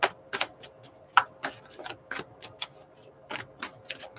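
Tarot cards shuffled by hand, a run of quick riffling clicks and flutters in irregular bursts, close and fairly soft, with no talking.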